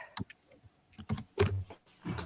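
Several people typing on computer keyboards, with scattered bursts of key clicks at irregular intervals, fairly close and moderately loud, with no talking.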